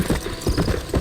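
A few close hoofbeats from a horse clip-clop in the video game Red Dead Redemption, three or four evenly spaced thuds in a short burst.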